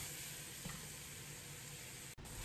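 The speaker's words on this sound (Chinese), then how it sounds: "把洋葱和姜片的香味彻底煎出，鸡翅煎至两面金黄" Chicken wings frying in a pan with onion and ginger slices give a steady, close sizzle that runs throughout, with one brief dip near the end.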